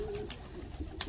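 Black pigeons coo briefly, a low, soft call over a faint background hum, with a couple of light knocks nearby.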